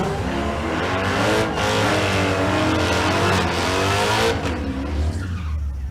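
Two drag race cars, one a 5th-gen Camaro, launch down a quarter-mile strip in a loud, sustained roar of engines and tire noise, pitch climbing and shifting as they pull away.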